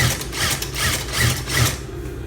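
A sewing machine stitches a seam on a shirt being resized, running in a steady, loud mechanical whir with a rhythmic pulsing about every 0.4 seconds, close and with no talk.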